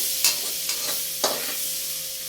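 Garlic goes into butter that is still melting in a pan and starts to fry, giving a steady close sizzle with three short scraping strokes from stirring.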